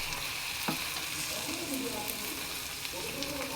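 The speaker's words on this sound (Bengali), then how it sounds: "এখন আমি এটাকে একটু ভালো করে ভেজে নিব।" Chili, turmeric, garam masala, cumin and coriander powders fry together in hot oil for bhuna khichuri, giving a steady close sizzle with occasional stirring scrapes and soft pops.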